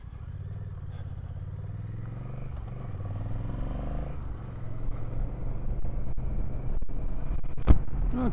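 Honda CMX1100 Rebel motorcycle being ridden, its engine a low steady rumble that builds as the bike accelerates, heard close with wind noise and a few knocks.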